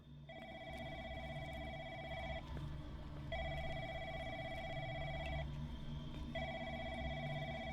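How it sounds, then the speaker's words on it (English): A telephone rings in a call center in the video game The Lancaster Leak: three faint electronic ring bursts, each about two seconds long with short gaps between them, over a low background hum. "I hear a phone."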